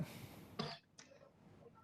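A man on a television analysis panel gives two short, close coughs, harsh throat-clearing bursts, followed by quiet room tone.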